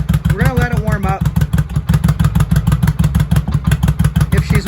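A 1983 Honda Shadow VT750C motorcycle engine idles steadily while warming up after a battery replacement, its pulsing low thump continuous and close, with someone talking briefly over it.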